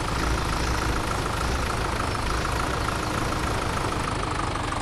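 A tractor engine idles steadily, a constant loud rumbling drone that runs unbroken through the whole stretch with no talking.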